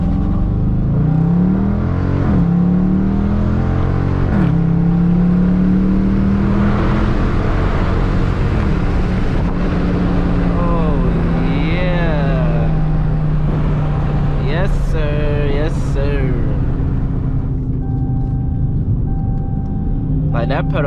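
A Dodge Charger fitted with a pedal box in track mode accelerates hard through a series of rising engine pulls and shifts, loud and close from inside the car, while people talk throughout.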